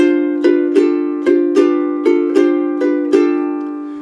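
Bar 7 of a ukulele rag melody strummed over a G7th chord, eight crisp swung strums in steady rhythm, each ringing briefly, close and alone.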